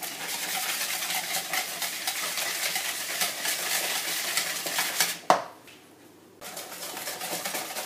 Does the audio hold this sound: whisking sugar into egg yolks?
yes